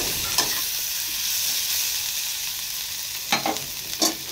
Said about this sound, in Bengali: এখানে কালো জিরে, কাঁচা লঙ্কা, পেঁয়াজ দিয়ে বেগুনের তরকারিটা বানাচ্ছি।